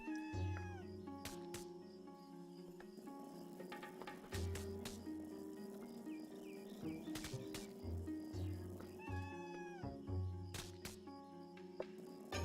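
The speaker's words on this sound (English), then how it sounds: "Oh no, the cat's hurting me." A cat enemy in the video game CrossCode, meowing repeatedly in short tonal cries over a busy game soundtrack with ringing mechanical clicks and effects, fairly quiet overall.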